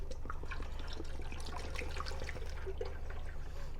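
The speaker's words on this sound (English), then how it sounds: "And we're going to pour it all in there." Thermocure radiator cleaner is poured steadily from a container into a radiator, giving a continuous faint trickle and splash with no talking.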